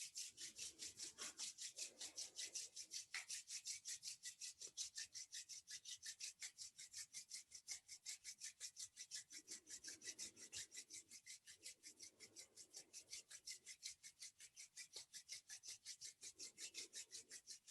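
Palms rub briskly together in an even back-and-forth rhythm, a close, dry swishing that carries on steadily in a quiet room with no talking.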